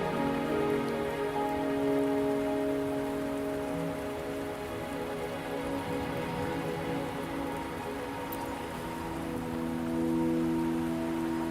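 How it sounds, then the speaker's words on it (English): Steady rain falls in the video game Wuthering Waves, a dense continuous patter layered with soft tonal game music throughout. "Are you trapped here by the rain?"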